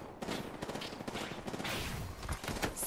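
Dense bursts of gunfire from an Apex Legends match, rapid overlapping shots and automatic fire crackling steadily throughout, close and loud with no talk.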